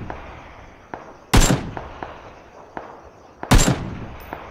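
Two sharp, loud gunshots in a video game ring out a couple of seconds apart, with fainter clicks and pops between them against a low background hum.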